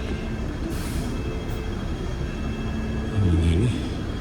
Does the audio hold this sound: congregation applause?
no